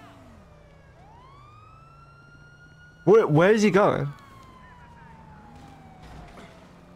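A police car siren wails in the video game Grand Theft Auto 5, a steady gliding tone heard at moderate distance beneath a voice speaking, with a brief louder burst of sound partway through.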